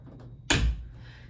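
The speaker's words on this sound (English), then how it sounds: "I'll close those doors." A hotel room closet door in a DoubleTree in Dallas, Texas, shut with a single solid thud after a few faint shuffling sounds, close and clear, with no talking.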